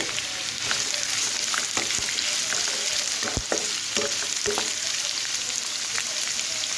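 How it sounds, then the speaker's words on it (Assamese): Onions fry in hot oil in a pan, a steady close sizzle full of small pops and crackles, with a few sharper stirring knocks along the way. "তেলখিনি গৰম হৈছে এতিয়া মই পিঁয়াজখিনি দি দিম"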